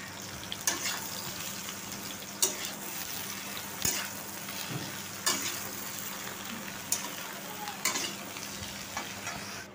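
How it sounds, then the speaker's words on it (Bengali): Vegetables frying in hot oil with a nigella seed tempering give a steady sizzle, broken by occasional sharp clinks and scrapes of stirring, close up, with no one talking. "কালো জিরে দিয়ে এই সবজিগুলো ছেড়ে দেবো এখন।"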